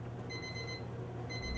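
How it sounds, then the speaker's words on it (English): A heating oven's timer in a dental lab beeps in two quick runs of rapid high-pitched electronic beeps, separated by a short pause over a low room hum. "Once the timer beeps, have your model matrix assembly out of the oven."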